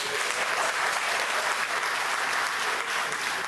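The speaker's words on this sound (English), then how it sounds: "Please give yourselves a round of applause" Dense, steady applause from a large audience at an evening event honoring legendary broadcasters, loud and continuous with no talk over it.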